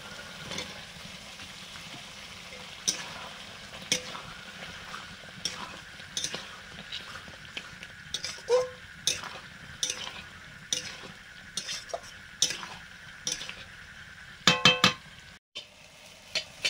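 Boiled potatoes going into a fried spice mix in a pan, a low frying sizzle under repeated spoon scrapes and clinks against the pan, ending with a quick cluster of sharp metallic knocks.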